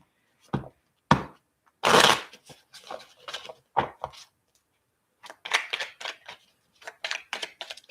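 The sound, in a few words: tarot cards being shuffled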